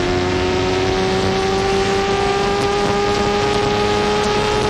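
A pack of 1993 CART Indy race cars accelerates onto the straight at the Long Beach street circuit, a loud, continuous engine drone filling the whole stretch with no voices.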